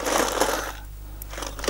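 Tempered glass crushing and crumbling after being struck by the glass breaker of a Walther Pro Tac Tanto knife, a dense crackling burst that fades, then a few lighter tinkling crunches, with no talk.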